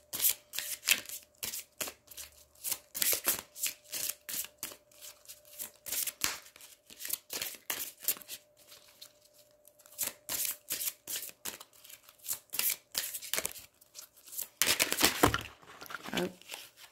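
Tarot cards shuffled by hand in repeated quick riffling bursts, crisp and close, with a brief pause and a denser flurry near the end.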